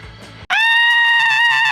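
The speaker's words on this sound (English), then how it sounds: "I'll let out a quick screech of frustration." A loud, shrill human vocal screech of frustration held for over a second, following a brief stretch of quieter sound.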